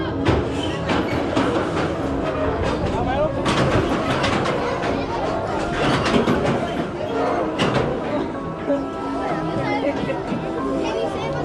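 Steel Eel roller coaster train at SeaWorld San Antonio rumbles and clatters on its track at fairly close range. People talk and chatter loudly throughout, with music, over sharp clanks and a constant mechanical rumble.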